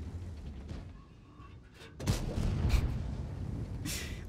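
A Löwe heavy tank's main gun booms in World of Tanks, a loud, sharp blast at about two seconds followed by a rumbling tail, with a lighter crack later and low engine noise throughout.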